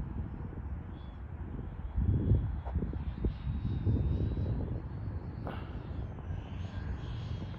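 An 80mm RC Mirage 2000 jet model flying, its turbine whine rising and fading at a distance over steady wind noise, with no talk.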